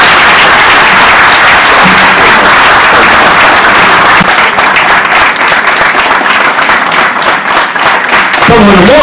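Loud audience applause for guest speaker Dr. Wale at an event, a dense, roaring clatter of clapping that fills the whole stretch, with a voice and cheers rising over it near the end.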